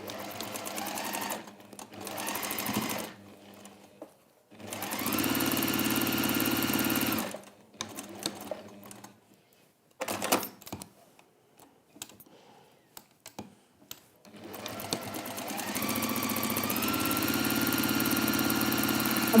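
A sewing machine stitches a fabric bag lining in several bursts of varying length, steady and close, broken by pauses filled with small handling noises.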